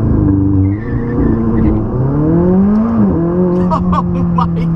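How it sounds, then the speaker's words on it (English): A McLaren 600LT launching under launch control on a slippery surface, its loud engine note climbing in pitch through a gearshift, then holding a steady high drone close by. "we're going to activate launch control"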